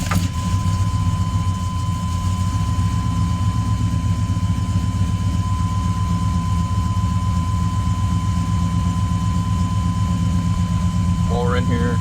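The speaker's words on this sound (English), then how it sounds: "here's a cold start and a little walk around video of a 1998 Chevy Silverado" A 1998 Chevy Silverado Z71 idles steadily after a cold start, a constant low rumble with a faint whine riding on top, heard up close throughout and briefly joined by a voice at the very end.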